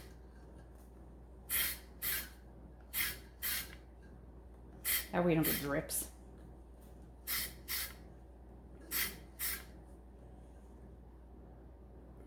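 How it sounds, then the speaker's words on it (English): White spray paint is sprayed on a handle in light amounts, making a series of short hissing bursts, mostly in pairs, quiet and close, with a voice speaking briefly between them. "I tend to spray little light amounts,"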